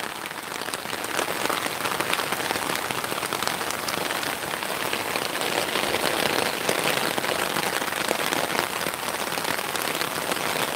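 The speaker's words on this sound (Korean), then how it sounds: "시원하게 비가 옵니다, 시원하게." Steady, dense rain pours down onto surfaces, a loud, continuous hiss of countless drops with no pauses and no voices.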